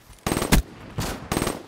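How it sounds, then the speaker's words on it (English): Shotgun blasts from Black Ops 3 multiplayer ring out in a rapid run of loud, close booms, with one sharp blast followed by two more spaced shots after a short gap. "This dumbass shotgun"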